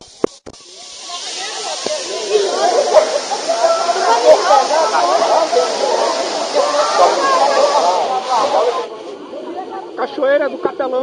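Cachoeira do Capelão waterfall in Chapada das Mesas National Park, Carolina, Maranhão, a loud steady rushing roar of falling water close by, with people talking over it and the roar dropping off near the end.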